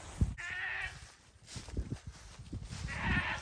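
A white goat bleats outdoors on a farm, two clear calls at moderate distance with quiet rustling and footsteps between them.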